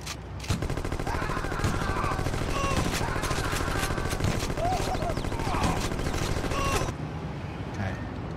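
Rapid gunfire in the Gangsters 2: Vendetta game, a dense sustained fusillade of overlapping shots for several seconds before cutting off, with faint game ambience continuing afterward.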